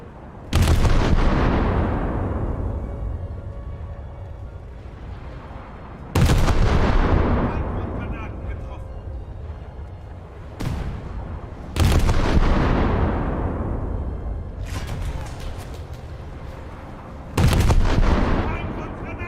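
Naval shell fire in a naval warfare game with a German cruiser. Four heavy booming salvos sound at regular intervals, each a loud blast rolling into a long decaying rumble, with a lighter thump between, and occasional voice lines.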